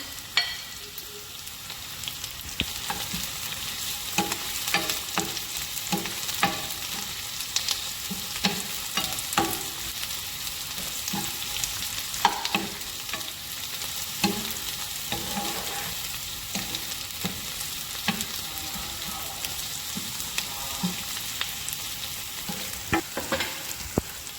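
Onions and garlic sizzle and fry in a pan for a beef meatball curry, a steady crackling hiss with occasional stirring clinks and scrapes running throughout, close and fairly loud with no talking.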